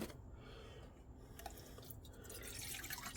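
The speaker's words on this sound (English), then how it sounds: "Put some water in there." Water poured into a Trangia kettle, a soft, faint trickle and patter that grows slightly fuller toward the end.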